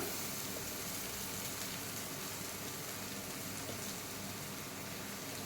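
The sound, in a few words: boiled beetroot with onion and chilli powder cooking in pan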